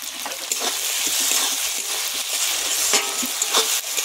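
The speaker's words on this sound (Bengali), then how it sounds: "ভালো করে ভাজা ভাজা করে নেব।" Masala of onion, ginger and garlic paste with green peas sizzles steadily in a pan, a continuous close crackling fry with occasional stirring scrapes and no voices.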